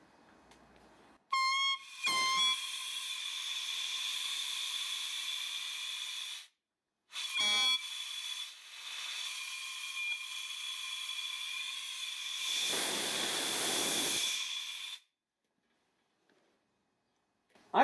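A cheap dollar store item hooked to an air compressor and overloaded, giving loud, harsh tonal hissing and shrieking bursts of escaping air, with several starts and stops and a final long rushing blast.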